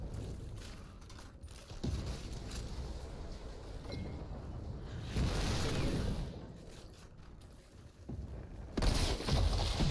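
Rapid gunfire bursts from the Outriders video game, a Devastator high-firepower build, come in dense volleys with brief gaps, with heavier explosive surges near the middle and end.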